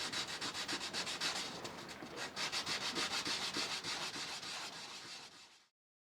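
Sandpaper rubs back and forth over a wood and resin pendant in quick, even strokes, a close, rhythmic scratching that runs steadily for several seconds before stopping.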